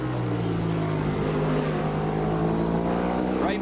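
World Superbike racing motorcycles, including a Kawasaki, at Manfield in 1990 roar past steadily, a loud continuous engine drone with a race commentator talking over it.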